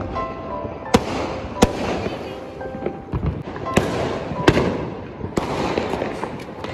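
Firecrackers and fireworks burst during a Diwali (Bagwal) celebration in Uttarakhand, with several sharp loud bangs at irregular intervals over a continuous crackling, hissing background of nearby and distant explosions.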